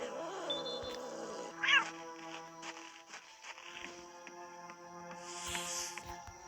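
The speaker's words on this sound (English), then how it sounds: "You have to distract the cat somehow." A cat meows in the Horror Tale 1 video game, faint and short against a quiet backdrop of sustained game music and a few soft footsteps.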